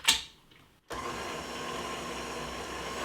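A stand mixer with the whisk attachment runs at a steady, even whir after a brief clatter and a moment of quiet, blending dry ingredients for pizza dough.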